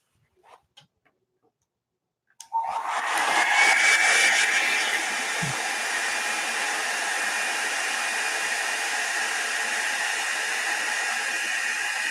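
After a few faint ticks and clicks, a hair dryer switches on and blows continuously to dry coats of alcohol ink, a loud steady whooshing roar that eases slightly after a few seconds and keeps going.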